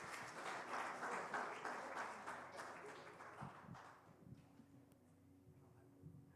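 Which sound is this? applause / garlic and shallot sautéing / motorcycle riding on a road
applause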